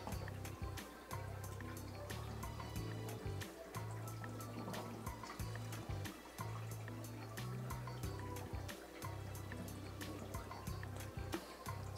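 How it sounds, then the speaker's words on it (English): Water runs into a bottle being filled about halfway for culturing paramecium, a steady close trickling and filling sound with small drips, continuing alone over a low background hum. "I'm going to fill up the water bottle about halfway."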